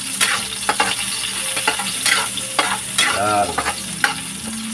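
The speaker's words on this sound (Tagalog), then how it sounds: "Igisa muna yung alamang. Yung sariwa." Fresh shrimp paste (alamang) sautéing in a pan for ginataang talong, close sizzling with repeated spatula scrapes and clacks at an uneven rhythm, one brief spoken word at the start.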